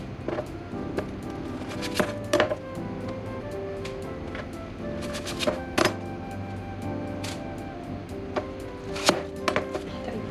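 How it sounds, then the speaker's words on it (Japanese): A knife chops onions on a cutting board for curry, sharp irregular knocks coming in quick bursts and scattered single strokes, close up over a quiet kitchen background with no talk. "それではまず玉ねぎを切っていきます"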